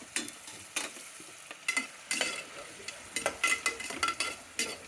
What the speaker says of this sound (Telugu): గరం మసాలా, ఉల్లిపాయలు వేస్తున్నాను